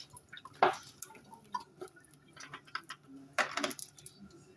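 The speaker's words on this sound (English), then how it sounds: "Always rinse your meat off, always. Add a little vinegar to clean it good." Raw ground beef rinsed with water and a splash of vinegar in a dorm kitchen, sparse drips, splashes and light clinks of a dish, close but fairly quiet, with no talking.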